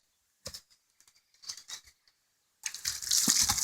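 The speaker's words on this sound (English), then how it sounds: "I'll hose this off because you can see they do poop a lot on this" Garden hose water sprays onto a poop-covered brooder board from a broiler chicken and turkey brooder: a few short splashes come first, then a steady, close, hissing spray runs on with no talk.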